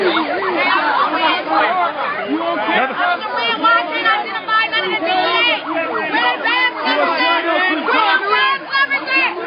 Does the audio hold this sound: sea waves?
no